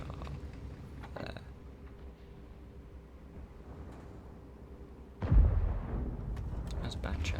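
A tank main gun fires a single blind shot in World of Tanks from the FV4005, one sudden loud boom breaking through a steady engine rumble and lingering as a heavy roar.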